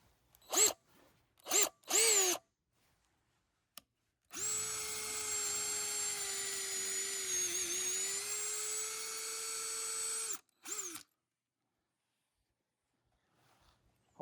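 A Bauer cordless drill driving lag bolts, heard as several short whirring bursts and then one long, steady, loud run of about six seconds. The pitch sags slightly under load, and a couple of brief bursts follow before the clip goes quiet.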